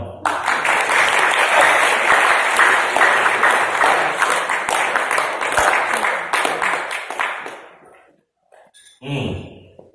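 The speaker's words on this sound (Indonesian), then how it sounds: "Tepuk tangan dong." Loud, dense audience applause at an Indonesian motivational talk, sustained for about eight seconds before cutting off, followed by a brief murmur of voices.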